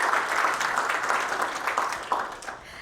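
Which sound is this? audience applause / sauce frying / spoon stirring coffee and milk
audience applause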